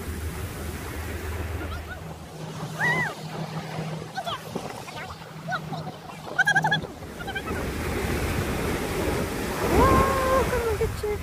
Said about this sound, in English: The wave.